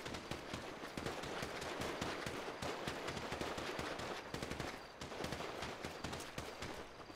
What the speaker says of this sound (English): Be advised, that was me laying down cover fire.